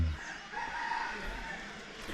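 A mountain chicken rooster crows once in a drawn-out call at a hillside spot during the cool season, heard at a moderate distance over outdoor ambience and wind.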